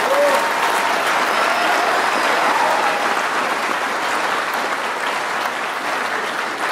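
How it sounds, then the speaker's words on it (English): At the Troup High School 2016 graduation, the audience claps in sustained applause, a dense and fairly loud wash of clapping that fills the whole stretch without talk. "Let's give these guys a round of applause."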